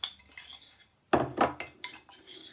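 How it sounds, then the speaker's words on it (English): A metal spoon stirs oatmeal stuffing mixture in a bowl, scraping and clinking against the sides in several distinct strokes, close and fairly loud, with no voices. "So I'm just going to mix all that up like so."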